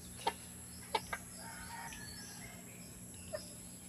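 Rooster fighting chickens clucking with a few short sharp calls outdoors, set against a continuous bed of crickets and a faint steady hum, fairly distant and quiet.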